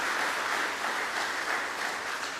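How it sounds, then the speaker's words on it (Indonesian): A church congregation applauds during a service of confirmation, baptism and membership transfer, a dense, even wash of many hands clapping at a moderate distance, sustained without a break. "mari kita sambut dengan tepuk tangan saudara kita."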